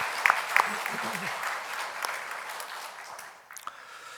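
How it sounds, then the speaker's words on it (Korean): Church congregation applauding during a Sunday worship service, a steady wash of clapping from many hands that fades slightly toward the end, with a voice speaking briefly underneath. "여러분 한 번 더 큰 박수로 좀 격려해 주시기"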